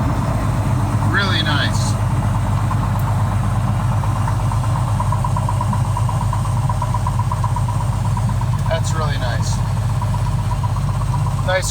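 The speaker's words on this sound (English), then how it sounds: "Nice quick startup. I love this engine." An Aerostar aircraft engine, close to its overhaul time, runs steadily at idle right after a quick startup in the A2A flight simulator, a continuous low drone throughout with someone talking over it.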